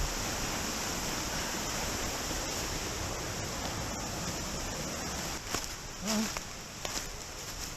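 A creek flows steadily along a hiking trail toward a waterfall, a broad continuous rush of water heard close by, with a few faint footsteps or knocks near the end.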